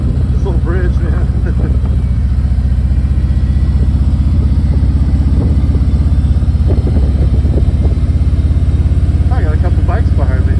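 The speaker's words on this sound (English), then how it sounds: "I got a couple bikes behind me." Motorcycles ride close behind on the way into a small town over a little bridge, a loud, steady low engine drone running unbroken throughout, with faint voice-like sounds surfacing now and then.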